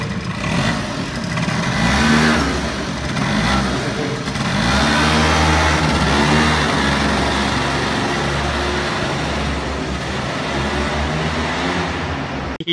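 An engine revs repeatedly as the throttle is blipped, loud and close, rising and falling in waves over a continuous idle rumble.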